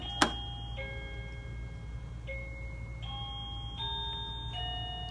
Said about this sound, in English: Then in the other pocket, I have my doorbell.